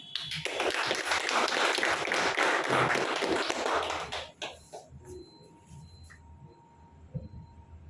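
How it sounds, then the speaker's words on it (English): Audience applause for an honoree at a felicitation ceremony, a dense wash of clapping that holds strongly for about four seconds, then breaks off into scattered claps and quiet room noise. "please give a huge round of applause for Rajesh ji"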